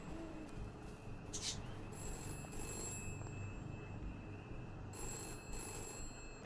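A telephone in a video game rings in repeated bursts of high, bright trilling tones over a low ambient game soundscape, fairly faint and without talk.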